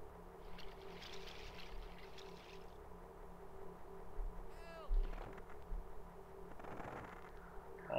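A house cat meows close to the microphone, a short rising cry near the middle and another at the very end, over a steady low electronic hum and faint background game audio.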